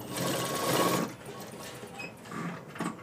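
A sewing machine stitches the lining of an umbrella sleeve, a close rapid mechanical whir in a one-second burst, then quieter short runs of stitching with brief pauses.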